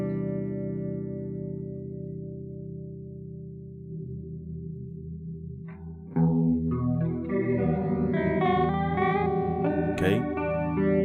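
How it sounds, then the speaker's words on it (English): Audio treated by a flanger phaser plugin: a sustained tone that starts steady, then turns into a dense, swirling modulated passage with sweeping harmonics and echoes, loud and close, with no talking. "let's check out some audio examples of this flanger phaser"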